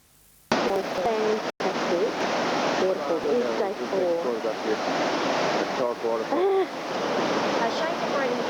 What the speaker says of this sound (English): We're actually at day 4 and we've come to this beautiful waterfall.